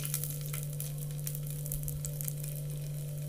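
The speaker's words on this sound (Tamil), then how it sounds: "இப்போ சுண்டவத்தல் நல்லா பொரிஞ்சிக்கிட்டு இருக்கு பாருங்கள்" Dried turkey berries (sundakkai vathal) frying in hot oil for a Tirunelveli-style kuzhambu, a steady dense sizzle with faint crackles running evenly throughout, close and alone with no talking.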